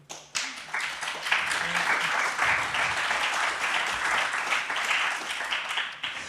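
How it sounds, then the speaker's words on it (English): A conference audience applauds a panel on financing the transition to a greener economy, steady sustained clapping from many hands in a hall, fairly loud and continuous for several seconds before easing off. "if you could maybe give some applause for the panel"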